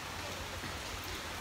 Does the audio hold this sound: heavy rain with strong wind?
yes